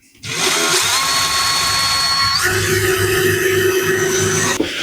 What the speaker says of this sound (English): I'm just going to pre-drill about there.